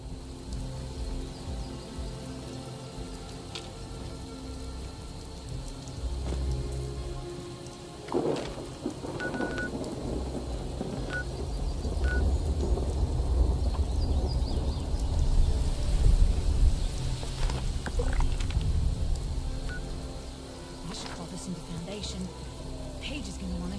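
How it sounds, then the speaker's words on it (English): Heavy rain and thunderstorm in Fallout 76, a steady patter of rain with deep rolling thunder swelling and rumbling in the middle, while game voices and other ambient sounds continue beneath. "there's been a crazy storm brewing down that way"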